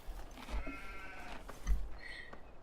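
A sheep bleats nearby, a wavering cry, with other faint bleats and rustling farmyard noise around it.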